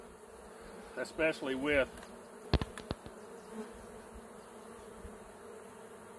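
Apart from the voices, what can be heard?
honey bees around hive supers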